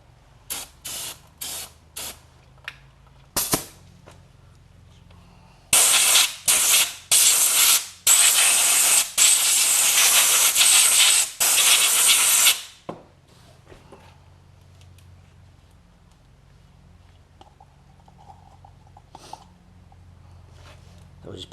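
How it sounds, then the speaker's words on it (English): Brake cleaner sprayed onto the front brakes of a 2000 Buick LeSabre, first several short hissing bursts, then a loud sustained spray broken by brief pauses, followed by quieter background with faint voices. "Brake cleaner."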